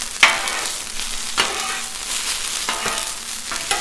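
Pork chop breakfast frying and being stirred on a Blackstone griddle: a steady close sizzle broken by several sharp scraping and stirring clatters of a spatula on the hot flat-top.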